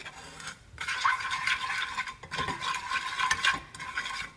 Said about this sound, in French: Donc voilà, je mélange le tout